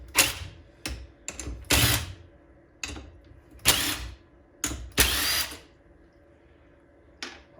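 An impact wrench taking nuts off a cadet kart fires in short, loud hammering bursts, several in quick succession separated by quiet pauses, close by with no talking.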